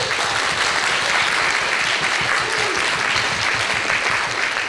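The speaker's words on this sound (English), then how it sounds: "Let's all give him a warm round of applause." Sustained applause from a live audience at a K-pop contest in San Francisco, welcoming a judge and co-host; steady, dense clapping throughout with a faint hint of voices underneath.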